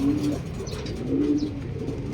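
Racing pigeons at a club loft in Pagsanjan, Laguna give two soft, low coos a second apart, close by over faint background noise.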